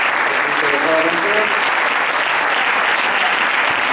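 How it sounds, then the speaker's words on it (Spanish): An audience at a science and spirituality congress debate applauding volunteers, dense sustained clapping from a large crowd, loud and even, with a faint voice underneath. "yo les pediría un aplauso a los que nos han ayudado interesadamente"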